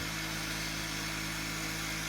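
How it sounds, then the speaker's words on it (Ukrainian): A toroidal electric motor runs on reverse currents, spun up to about 3100 revolutions, giving a steady, loud hum and whine with a constant drone and no pauses. "Мотор розігнався до 3100 оборотів."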